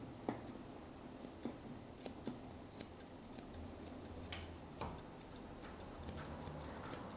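Quick, crisp snips of curved scissors trimming a West Highland White Terrier's coat around its foot, coming in irregular bursts at close range over a soft background hush.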